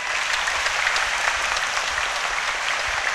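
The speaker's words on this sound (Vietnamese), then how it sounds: "một tràng pháo tay nữa thật to dành cho các em" Children at a parish Advent gathering give a loud, dense round of applause, continuous and close, filling the whole stretch with no voices over it.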